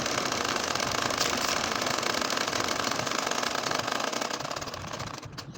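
A sewing machine stitches a nakshi kantha design, needle hammering in a fast, even, continuous rhythm at close range, slowing slightly near the end.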